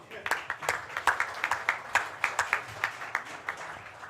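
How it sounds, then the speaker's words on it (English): Applause for a newly introduced speaker at a public event: a small audience's sparse, distinct claps in a loose steady rhythm, moderately close and fairly light, with no voices over it. "if we can have a round of applause for Jano"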